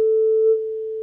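A pure sine tone near 440 Hz is run through the Bitwig Studio Resonator Bank, giving a steady, loud, sustained single note for about a second with a faint ringing overtone that fades midway.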